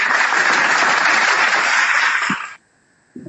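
A crowd applauds at a religious debate event, dense clapping that runs loud and steady for over two seconds, then stops abruptly into near silence, with a brief thump at the end.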